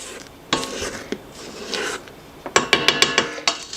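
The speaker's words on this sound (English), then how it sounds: "I'm scraping because there's a lot of sugar still left on the bottom of this bowl" A utensil scrapes leftover sugar off the bottom of a mixing bowl with close, gritty rasping strokes, a few spaced ones at first and then a quick run of sharp scrapes, and no talking.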